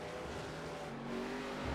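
A NASCAR race car on track, its engine a steady, fairly faint drone that holds constant and swells slightly toward the end.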